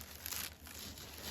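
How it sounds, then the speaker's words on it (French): Tissue paper crinkles continuously at close range for a little over a second, a soft papery rustle with no voices over it. "Je suis désolée pour le bruit parce que j'ai pas enlevé le papier de soie"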